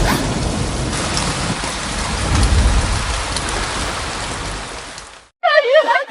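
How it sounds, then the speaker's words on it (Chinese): Heavy rain from a storm in a dramatized period palace scene, a dense steady downpour hiss with a low rumbling undertone that fades out before a voice shouts excitedly at the end. "我天，居然下雨了！"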